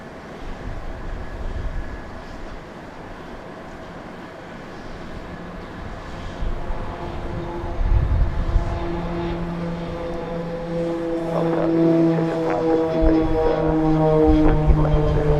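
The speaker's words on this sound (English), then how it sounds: "Certainly makes a distinctive noise. Thank you. That would have been a Beech C-90 King Air." A Beech C-90 King Air turboprop takes off at Dallas Love Field, building from a distant rumble into a louder, rising engine whine with distinct tonal layers in the later seconds.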